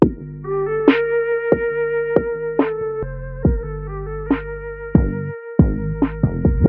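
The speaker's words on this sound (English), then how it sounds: "we do have like RC20 retro color coming in to add like a low and a high pass filter" A melodic loop of plucked, bell-like notes over a low bass, filtered by RC-20 Retro Color low- and high-pass filters, thin and muffled at both ends, playing alone at moderate volume.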